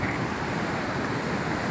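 Sea waves washing ashore at Kalpeni in Lakshadweep, a steady broadband surf roar with some wind buffeting the microphone, continuous and fairly close, with no voices.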